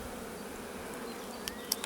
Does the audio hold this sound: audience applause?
no